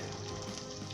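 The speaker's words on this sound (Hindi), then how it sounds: "दोस्तों हमने सिर्फ इसे 2 से 3 मिनट तक हाई फ्लेम के ऊपर जो है भूनना है" Potatoes and moongray fry in oil over a high flame, giving a short, soft, steady sizzle heard close up with no voices.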